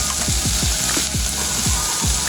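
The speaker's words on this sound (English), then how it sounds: "I'm going to give this a nice saute" Spices for a vegetable pulao sauté in a hot pan with Kashmiri red chilli powder and garam masala, a steady close sizzle broken by a quick series of rhythmic stirring scrapes.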